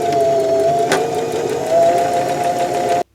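A sewing machine stitches a fabric sample in one continuous, steady mechanical whir, close and fairly loud, stopping abruptly at the end.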